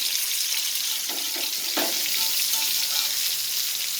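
Steady, loud sizzling of barracuda roasting in hot coconut oil, with a few soft clinks and shuffles of a utensil in the pan.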